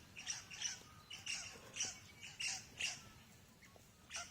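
Large crow-like birds scream in a garden, giving a series of harsh, rasping squawks at irregular intervals, moderately distant and fairly faint against quiet outdoor background.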